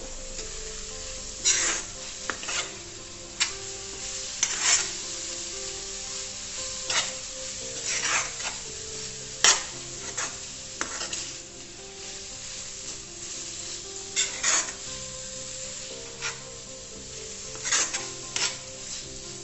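Banana-stem pickle being stirred in a pan with asafoetida and fenugreek powder, a spoon scraping through it in repeated strokes over a steady low sizzle, close and alone with no voices.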